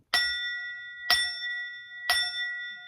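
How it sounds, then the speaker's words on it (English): A bell is struck gently three times at steady one-second intervals, each a clear, ringing tone with a soft attack and a sustained shimmering decay, heard alone and fairly close. "You don't always have to hit the bell hard."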